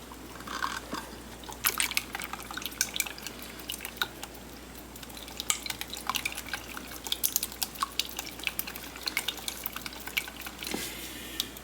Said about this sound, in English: Then I'm going to mix this up.